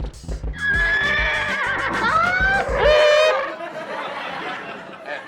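A horse whinnies loudly and at length in a comedy sketch, a long rising-and-falling neigh with a few hoof clops underneath, then tapers off into quieter background.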